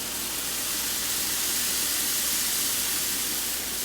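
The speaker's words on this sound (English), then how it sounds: "we're going to spray this side and that side and put the rest on this side" A continuous, loud hiss of cooking spray onto a waffle iron, steady and bright without pause for several seconds.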